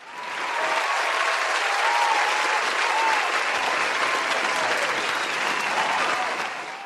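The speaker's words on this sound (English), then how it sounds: "Do they get a round of applause?" Sustained round of applause from an audience, dense and steady throughout with a few faint whistles rising above the clapping.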